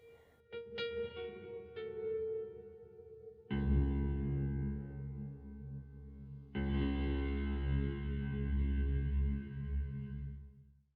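Plucked instrument notes ring out through a reverb pedal, then long, shimmering washes of reverb swell and hang, the held trail sustaining evenly for several seconds at a time.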